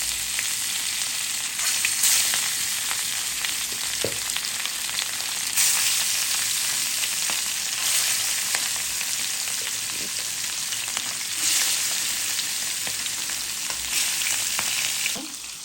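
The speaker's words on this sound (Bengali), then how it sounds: "দিয়ে দিলাম মাছ ভাজা।" Bata fish fry in hot oil in a pan, a loud, continuous crackling sizzle with occasional stirring clinks and brief surges in intensity, heard up close without talk.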